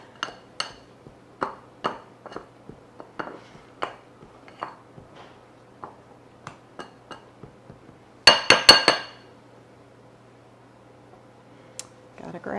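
A spoon clinks against dishes while cheesy garlic biscuits are being made. About twenty sharp, close taps come at an irregular pace, then a brief louder clatter of metal and glass, and a quiet stretch follows.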